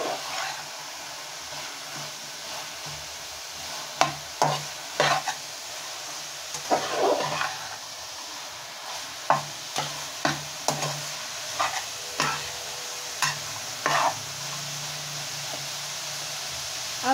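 Carrot halwa with almonds, crushed coconut and poppy seeds being stirred in a pot, with a string of separate scraping and knocking strokes at a steady pace over a faint continuous hiss.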